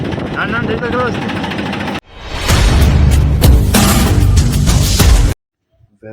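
A tractor engine runs loud and close with a steady, rumbling drone that cuts off abruptly near the end, following a stretch of voice and other sound.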